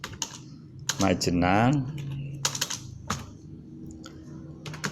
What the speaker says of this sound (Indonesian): kita tetap ketik di sini dulu aja